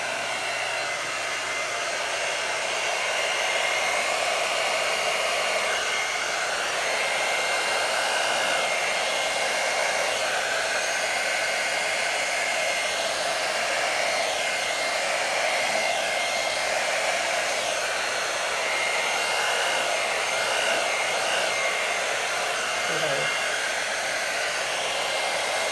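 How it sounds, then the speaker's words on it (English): A hair dryer blows on poured acrylic paint on a teal-based hexagon canvas, making a loud, steady, unbroken whooshing drone that runs for the whole stretch with no speech. "now I'm going to get my handy dandy dryer, and we're going to just see what happens."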